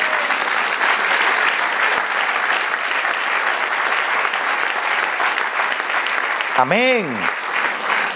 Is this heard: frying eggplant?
no